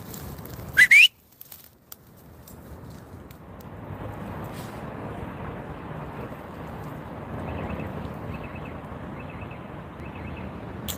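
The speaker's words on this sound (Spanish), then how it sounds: "Por allí chifló alguien." A single sharp rising human whistle in the dark near the start, loud and brief, followed by quiet hiss of wind and faint distant ambience.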